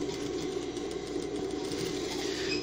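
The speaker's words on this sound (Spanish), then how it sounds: "lo voy a hacer girando el volante de la máquina, es decir, de manera manual" A sewing machine stitching slowly while turned by its hand-wheel, making a steady low mechanical hum and faint rhythmic ticking close by, with no voice over it.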